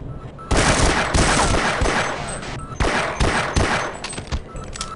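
Soldiers firing in Half-Life 1 unleash loud, close bursts of automatic gunfire, several volleys separated by short gaps.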